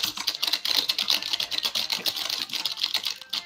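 Quick, irregular clicking of keys on a computer keyboard, close and steady with no one speaking.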